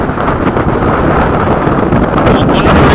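Strong wind gusts buffet the microphone during heavy rain, a loud, continuous roaring rush that stays steady for the whole stretch with no clear breaks.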